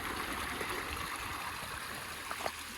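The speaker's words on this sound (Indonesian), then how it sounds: "Tadi awalnya saya kira yang mengalir air ini adalah sungai, rupanya enggak, ini adalah bekas jalan ini." Water runs down a former road like a stream on the slopes of Gunung Singgalang, a steady, fairly faint rushing and trickling wash that continues unbroken.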